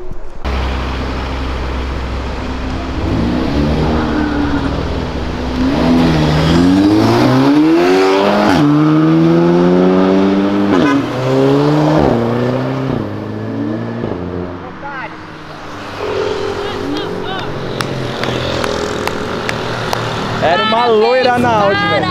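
Audi S3 accelerating hard: a loud engine climbing through repeated rising sweeps as it works up through the gears, with people talking and shouting over it.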